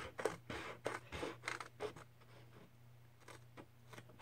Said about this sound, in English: I'm going to cut along this line. You can use bigger scissors.